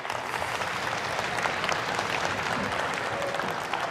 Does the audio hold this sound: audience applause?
yes